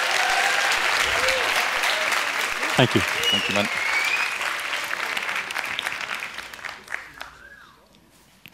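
Warm audience applause at a student science symposium greets a presenter, steady and full for about seven seconds before thinning out, with a man briefly thanking the crowd over the clapping.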